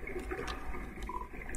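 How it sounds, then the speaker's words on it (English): Rushing waterfall in the video game Undertale, a continuous steady wash of falling water heard alone at moderate level with no talking. "I swear I saw something behind that rushing water"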